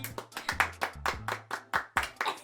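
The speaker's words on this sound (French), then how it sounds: "Tu applaudis, applaudis." A steady run of about a dozen sharp hand claps, close and rhythmic, with a low hum beneath and no talking.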